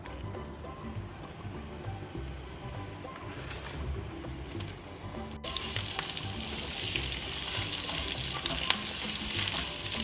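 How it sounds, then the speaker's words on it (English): Onions fry in a little oil in a pan with garam masala and curry leaves, giving a continuous close sizzle that grows louder and brighter partway through, with stirring noises. "So I'm going to take a little bit of oil in a pan like this and fry the onions along with the garam masala and the curry patta first."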